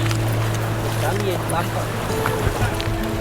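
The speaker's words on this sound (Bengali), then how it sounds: "এই যে আমাদের বোট ঢুকছে এখন।" A ferry pulling in to dock at the Gili Trawangan port, with a steady loud engine drone and water churning close by, while people talk over it.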